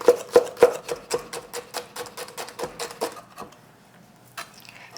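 A knife slices rolled shredded kelp very thinly on a cutting board, a steady run of about a dozen crisp, close chopping taps that slow and fade out near the end.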